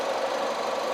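A midsize LPG-fuelled sedan with about 100,000 km on it idles steadily, its engine giving a continuous close hum with a faint rhythmic knock through the whole second and no other sound.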